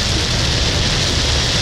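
Steady heavy rain pouring down, a dense continuous hiss with a low rumble, close and loud throughout with no pauses.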